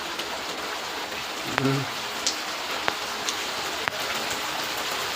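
Heavy first rain of the season pours down in a steady, even hiss, dotted with a few sharp drop impacts and a brief faint murmur partway through.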